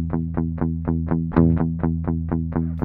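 A distorted electric guitar loop layered through a BOSS DD-20 Giga Delay: steady, evenly spaced chugging notes repeating loudly with chorus-like shimmer and echo, one brighter accent near the middle.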